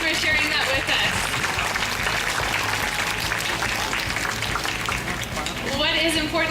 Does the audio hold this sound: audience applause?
yes